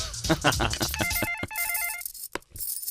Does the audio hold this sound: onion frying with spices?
no